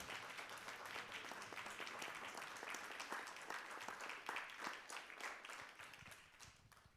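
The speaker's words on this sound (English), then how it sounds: "please stand so we can give you a round of applause" An audience at a city council meeting applauds police officers and the police chief with steady, dense clapping that carries on for several seconds before tapering off at the end.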